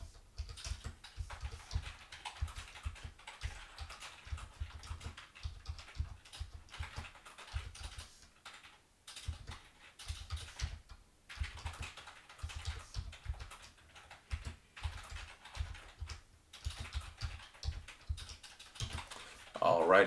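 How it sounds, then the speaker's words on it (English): Steady, rapid clicking of a computer keyboard as data is typed, close and fairly quiet, continuing with brief pauses throughout. "I'm just going to carefully type in the information"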